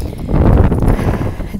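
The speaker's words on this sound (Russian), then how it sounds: "Дует ветер, наверное, сейчас будет задувать." Strong wind gusts outdoors in freezing early-spring cold, a steady loud broadband roar buffeting the microphone throughout with no talk.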